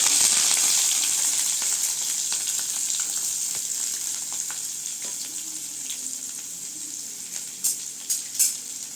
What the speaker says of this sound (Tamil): வெங்காயம் சேர்த்து நல்லா வதக்கிக்கலாங்க